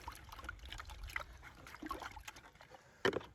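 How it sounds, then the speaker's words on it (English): Water trickles and splashes as miner's moss is rinsed out in a sluice box, a steady low wash of dribbling liquid with a sharper splash near the end. "take that miner's moss and really rinse it out in that water"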